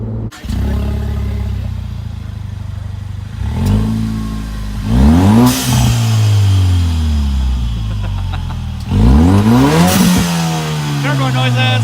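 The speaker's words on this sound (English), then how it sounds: "Turbo noises!" A turbocharged Jeep JK engine revs hard while driving, with several loud rising and falling sweeps in pitch as it accelerates and shifts, close and continuous from start to finish.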